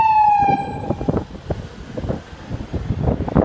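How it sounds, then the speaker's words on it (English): An ambulance siren wails loudly at first, its tone sliding downward as it passes, then fades into gusty wind buffeting the microphone. "here's the ambulance"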